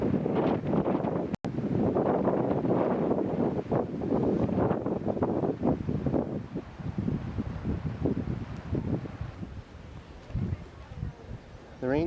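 Strong wind gusting outdoors on a sunny, cloudy day along a rocky coast in Ireland, buffeting the microphone with steady roaring rumble for most of the stretch, easing somewhat toward the end.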